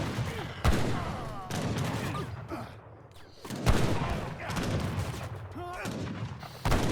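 Janissary musket volleys crack repeatedly in an Age of Empires III battle, sharp bursts of gunfire spaced irregularly amid ongoing combat noise, with a commentator talking over it.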